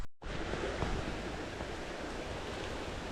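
Distant creek water in Ohio rushes in a broad, steady wash of noise that holds constant and fairly loud with no voices.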